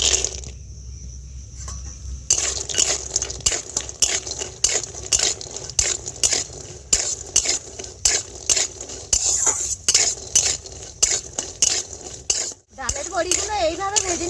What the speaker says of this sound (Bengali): এবার ডালের বড়িগুলো ভেজে নেব